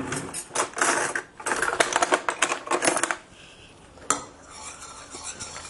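Rapid clinking and scraping of a utensil stirring granola ingredients in a bowl, in busy bursts, then a brief pause followed by quieter scraping.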